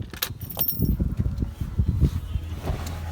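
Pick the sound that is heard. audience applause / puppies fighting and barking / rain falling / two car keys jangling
two car keys jangling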